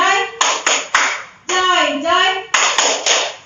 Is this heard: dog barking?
no